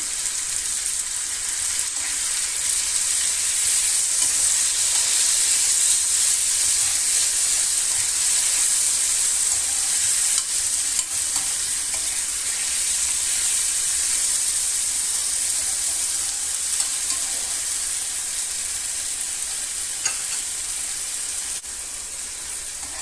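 Chopped tomatoes with salt fry steadily in a pan for shakshuka, giving a continuous loud hiss and sizzle that runs unbroken from start to finish with no talking.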